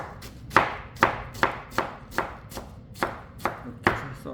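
Knife chopping vegetables such as cabbage on a cutting board for water kimchi: about nine crisp, evenly spaced thuds, close and clear, with no talking over them.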